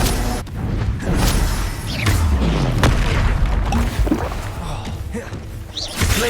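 Spellcasting in Hogwarts Legacy as the Expelliarmus spell is thrown: a string of whooshing magical blasts with swept tones, booms and impacts, crowded together over a steady game-battle din.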